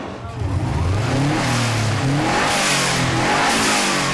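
A turbocharged car engine revving hard, a loud close sustained roar climbing and holding at high revs with a rough, rushing texture.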